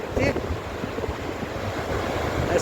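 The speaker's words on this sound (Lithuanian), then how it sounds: "Šiandien tokia pikta jūra." Rough, angry sea surf pounds Gouves beach on Crete, a loud continuous roar of breaking waves mixed with buffeting wind noise on the microphone.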